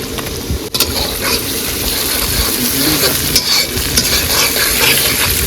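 Tomatoes hit hot mustard oil in a kadai with a steady, close sizzle and crackle, while a utensil scrapes and stirs through the pan almost the whole time.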